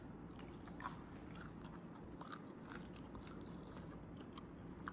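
Crunchy cheesy garlic bread stick, about a quarter inch thick and oily from the cheese, bitten and chewed up close, with a steady crisp crunching and scraping texture running through the whole stretch.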